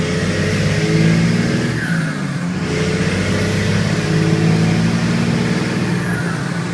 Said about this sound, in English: I'm having a good time driving this truck.